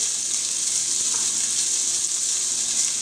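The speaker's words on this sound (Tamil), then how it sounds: "ஒலிவ் ஆயில் விட்டுட்டு இந்த வெஜிடபிளையும் ஒனியனையும் முதல் போடுங்க" Vegetables and onion fry in olive oil in a pan, giving a steady, close, bright sizzle that hisses evenly throughout with no voices.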